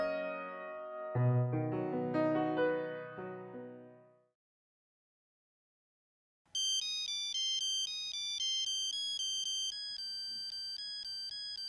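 A mobile phone ringtone plays a loud melodic tune, then stops for a couple of seconds before a second, brighter electronic ringtone starts and keeps ringing steadily.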